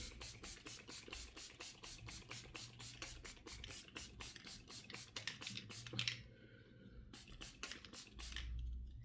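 Rapid, repeated short hissing sprays of face mist close by, a quick rhythmic series of pumps, then a brief pause and a few more spritzes.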